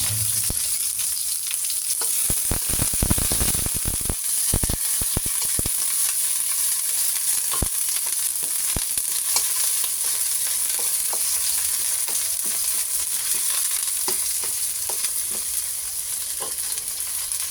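Garlic and onions frying in a hot pan, a dense steady sizzle with sharp crackles and pops early on, close and loud throughout with no voices.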